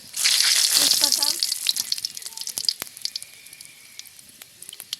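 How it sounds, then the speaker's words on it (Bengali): Panch phoron spices and bay leaves hit hot oil in a pan for a vegetarian green jackfruit curry, giving a loud burst of sizzling that settles into scattered crackles and pops. "আলু ভেজে তেলে দিয়ে দিব পাঁচফোড়ন"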